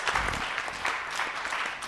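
A church youth group at a Sunday service applauds to welcome a deacon, a dense, steady burst of clapping from a room full of people, fairly loud and with no talk.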